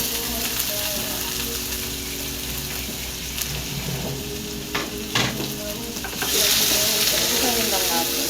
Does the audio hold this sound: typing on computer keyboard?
no